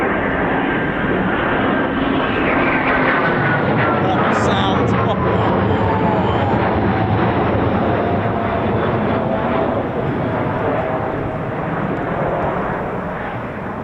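A Eurofighter Typhoon FGR4 jet roars loudly and steadily at an RAF station, a sustained broadband engine rush with a slowly shifting whine that eases slightly toward the end.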